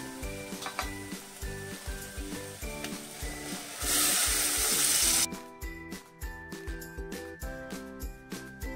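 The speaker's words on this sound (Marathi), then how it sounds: "आपण यामध्ये आपण शिजवून घेतलेल्या ज्या भाज्या आहेत त्या भाज्या आता मिक्स करणार आहोत" Oil-separated roasted masala sizzles in a pan as cooked vegetables are stirred in for a traditional Bhogi thali. Rhythmic stirring scrapes run over soft music, with a brief louder burst of hissing partway through.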